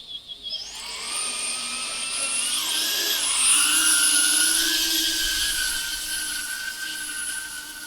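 A 2.5 inch FPV drone flying in acro mode: its motors rise into a loud, high whine with several whistling tones that slide up and down as the throttle changes, holding steady and close for several seconds.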